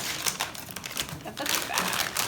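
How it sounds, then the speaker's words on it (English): A 16-ounce plastic bag of pretzels crinkles and rustles in close, irregular bursts as it is handled, with someone talking alongside. "you're going to grab your bag of pretzels"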